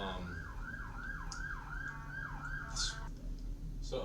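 An ambulance siren passes close by with a rapid rising-and-falling wail that repeats about eight times and then cuts off, over low traffic rumble.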